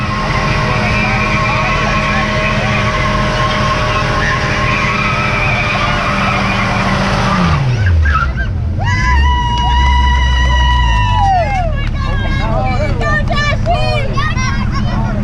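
A car spins its tires on gravel at a 2018 cruise-in, a loud revving squeal and skid that drops away halfway through, followed by chirping and crowd chatter nearby.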